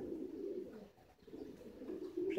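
Pigeons coo steadily in a loft, a low throaty rolling murmur from several birds that continues through the clip, with no voices.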